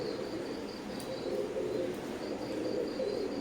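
Steady, soft cooing of Teddy pigeons of Omani bloodline over a continuous low murmur, with occasional faint chirps; no talking.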